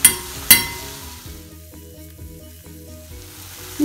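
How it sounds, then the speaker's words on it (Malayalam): Ginger garlic paste hits a pan of softened, browned onions and spices, giving two sharp hissing bursts followed by a steady, fairly loud sizzle and stirring at close range, with no talking. "ഇതിലേക്ക് ഞാൻ ചേർക്കുന്നത് 1 ടേബിൾ സ്പൂൺ ജിഞ്ചർ ഗാർലിക് പേസ്റ്റാണ്."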